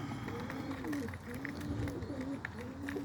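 Pigeons coo repeatedly in a loft of tipplers, soft rising-and-falling calls in a loose rhythm, close by over low background noise and faint rustling.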